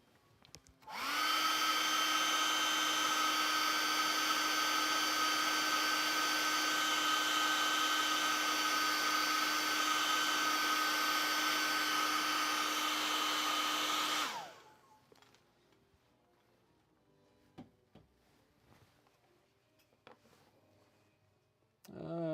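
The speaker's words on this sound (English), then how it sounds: "Let's blow dry these again." A hair dryer blows steadily and loudly on a painted vinyl model kit, a constant whirring roar that runs for about thirteen seconds before switching off, leaving faint handling sounds and quiet clatter.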